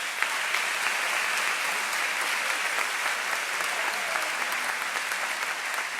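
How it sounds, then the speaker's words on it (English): A school audience at a 2016 high school honors ceremony applauds students with steady, dense clapping that holds at an even loudness for several seconds. "Please give these students a round of applause."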